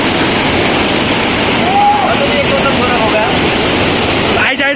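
A natural waterfall and river roar as a loud, dense wash of rushing water close by, steady throughout with no clear voices above it.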